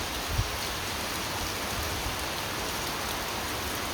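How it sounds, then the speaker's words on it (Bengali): Steady rain pours down outdoors in a rural village setting, a dense, even hiss that holds at the same level throughout with no pauses and no talking. "দেখেন বৃষ্টি মোটামুটি ভালো বৃষ্টি হয়েছে"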